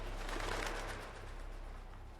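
Birds coo softly in the background of Saw: The Video Game, a faint murmuring call over a low steady hum.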